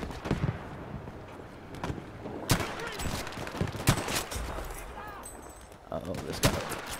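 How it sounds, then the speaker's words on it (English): Gunfire from the Battlefield V video game, set in a jungle: sharp bursts and scattered shots crack out over a busy battlefield backdrop, some close and loud, others more distant. "Here's some type of machine fire right in front of me, right over here."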